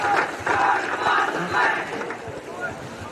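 Applause and cheering from parents and supporters at a junior under-15 boys football presentation day, a dense sustained wash of clapping and voices from a crowd that swells and eases over a few seconds.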